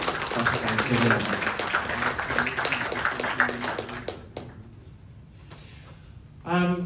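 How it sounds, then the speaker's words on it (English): An audience at a 50th anniversary celebration at Taumeasina Island Resort claps for the event sponsors, with loud, full applause and a few voices that die down after about four seconds, followed by a short burst of speech. "a big round of applause for our amazing sponsors"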